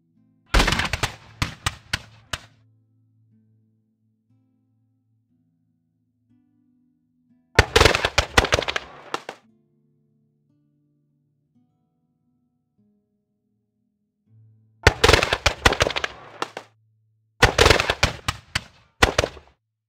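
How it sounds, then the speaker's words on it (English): Musket volleys of defensive fire in a Frederick the Great era Horse and Musket battle crackle as rapid ragged bursts, four separate salvos divided by quiet stretches with low drums. "We moved into them, so they're now executing defensive fire."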